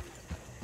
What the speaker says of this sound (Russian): У меня вот лошадь вообще медленно едет.